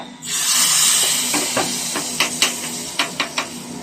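Hot oil tempering with curry leaves poured into a Kerala lentil curry, opening with a loud steady sizzle that fades into a softer hiss broken by several sharp crackles and pops near the end.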